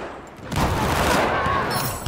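A sudden burst of rapid gunfire from an AEK-971 rifle in Battlefield 4 erupts after a brief quiet moment, dense and loud, continuing as a sustained rattling volley.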